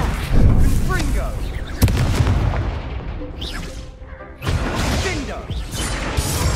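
Spell blasts and explosive booms in the video game Hogwarts Legacy, a string of heavy impacts and crackling bursts during combat, with a voice calling out throughout.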